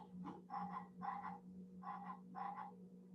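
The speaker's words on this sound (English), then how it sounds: "when kids move in front of this frog, he croaks and lets them know that they've moved" A motion-detector toy frog croaks in four evenly spaced bursts, each a raspy ribbit, faint against a steady low electronic hum.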